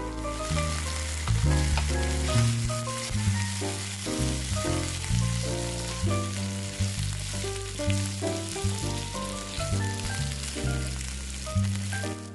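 Fried chicken wings and chopped onion sauté in a pan with a continuous crackling sizzle, partly buried under louder melodic background music.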